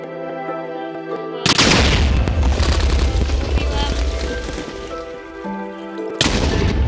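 Booming blasts in the Minecraft video game: a sudden loud burst sets off a rumbling, crackling run of explosions, then a second sharp blast near the end, with a voice speaking faintly.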